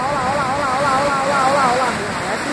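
An ocean wave breaks and washes ashore at Pedra Furada in Jericoacoara as a loud, continuous rushing roar, with a wavering voice-like tone running over it.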